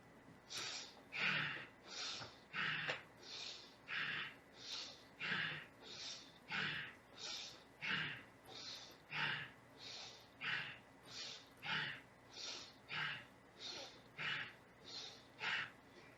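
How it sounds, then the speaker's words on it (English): Fast, shallow breathing exercise done at about two breaths per second: a steady run of sharp, rhythmic nasal puffs without pauses, close and fairly loud, repeating evenly for the whole stretch. "we can do the shallow breathing like this"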